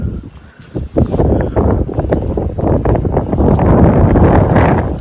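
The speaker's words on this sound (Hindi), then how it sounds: "यहाँ पे हवा चल रही है, आपको ये बंद रखना पड़ेगा।" Wind blowing outdoors, rushing and buffeting against the microphone in loud continuous gusts that swell toward the end, with no talk over it.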